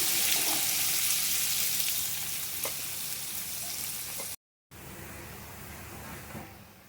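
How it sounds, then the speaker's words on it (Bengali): Chopped onion frying in a pan for a thin meat curry, a steady broadband sizzle that holds for about four seconds, drops out briefly, then resumes slightly softer. "এবার দেখো আমি পেঁয়াজ কুচিটা দিয়ে দিচ্ছি"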